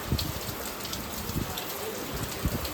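Heavy rain pours steadily on surfaces outside a house, a dense continuous hiss with occasional louder drips, and someone speaks softly at times.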